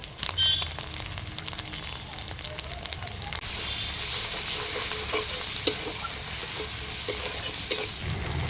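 Ground spice paste and onion with black cumin fry in a pan, a continuous close sizzle with scraping stirs and occasional sharp crackles, steadier and louder after the paste goes in.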